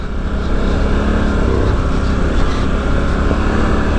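A 2019 Polaris Sportsman 1000 XP quad drones along at the Quadrézienne 2020 ride, a loud, steady engine rumble close by with rushing wind and no talking.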